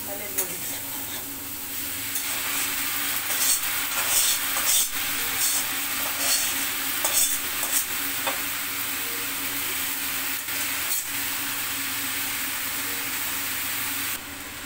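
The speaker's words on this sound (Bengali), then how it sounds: "এখন আমি দিয়ে দিব সিদ্ধ করে রাখা পালং শাক আর ডালের বড়ি।" Eggplant fried with boiled spinach and lentil dumplings being stirred in a pan, with a steady sizzle and scraping of the spatula throughout, close and continuous with no talk.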